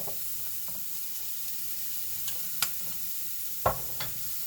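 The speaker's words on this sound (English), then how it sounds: "my spices are in the pan, and now I'm just going to give it a quick stir" Spices stirred quickly in a hot pan for a taco bowl give a faint steady sizzle, broken by a few sharp, brief scrapes and taps of the utensil against the pan.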